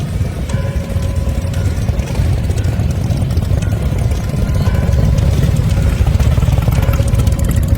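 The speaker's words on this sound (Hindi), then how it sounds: "मोटरसाइकिल की आवाज आई।" A motorcycle engine rumbles steadily on a village road on a cold evening, growing slightly louder toward the end, with no voices.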